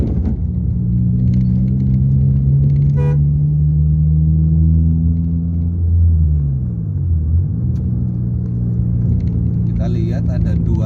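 Heavy road traffic with large vehicles passing, heard as a loud, steady engine rumble with a tone that bends downward as a big vehicle goes by. A few faint clicks and chirps sit above the rumble.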